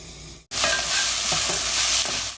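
Onions dropped into a pan of butter and olive oil, bursting into loud, steady sizzling and frying that continues with occasional stirring scrapes, close up with no talking.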